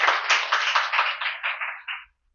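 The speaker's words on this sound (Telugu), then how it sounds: "చప్పట్లు కొట్టండి." A church congregation claps hands together in a steady rhythm, about nine quick bursts of claps that gradually soften and then stop.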